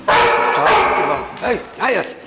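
A dog yaps and barks in quick high-pitched bursts, two long excited barks followed by two shorter yelps, close and loud.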